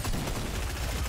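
Gunfire in a video game, a dense and continuous burst of loud rapid shots that blur together into one harsh wash of noise.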